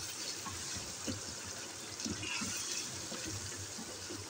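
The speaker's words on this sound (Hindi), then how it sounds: "हल्का सा पानी डालती हूँ" Water is poured into a pan of frying masala for dahi aloo baingan, a soft, fairly faint splashing and trickling that runs continuously over low cooking sizzle, with no talk.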